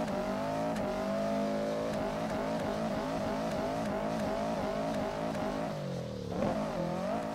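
A video game all-wheel-drive car drifting through snow, its engine droning steadily with rising and falling revs as it slides, then dipping briefly before revving back up, loud and continuous with no talk.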